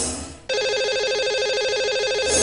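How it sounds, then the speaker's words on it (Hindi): An electronic telephone ring pulses rapidly and steadily, loud and close, as a radio host dials a lucky caller on a Hindi morning show. "आइए सबसे पहले उन्हें फोन लगाते हैं।"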